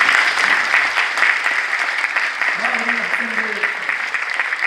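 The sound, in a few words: audience applause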